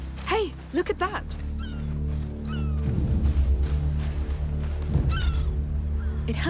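Seagull calls in the video game A Plague Tale: Requiem, set by the sea: several sharp, close honking cries in quick succession at the start, with more bird calls mixed among game sounds and low ambience.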